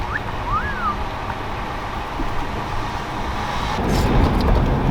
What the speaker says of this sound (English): that was Jake's Subaru